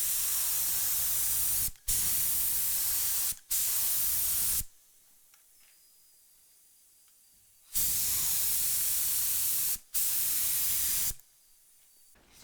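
Spray gun laying lacquer onto a Stratocaster guitar neck, close hissing bursts of a couple of seconds each, several in a row with brief gaps and one longer pause.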